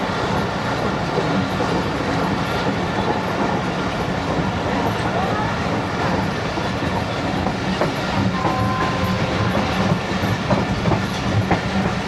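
The Karakoram Express runs fast on its rails between Lahore and Khanewal, giving a steady, dense rumble and rattle heard from inside the carriage with faint clickety-clack throughout and no clear talk.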